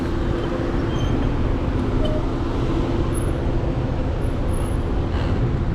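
Busy city road traffic with many cars in Changhua City makes a continuous, loud, even roar of engines and tyres, heard alone without speech.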